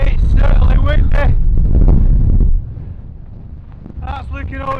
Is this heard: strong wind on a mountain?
yes